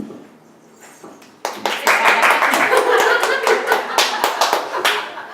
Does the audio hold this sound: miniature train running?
no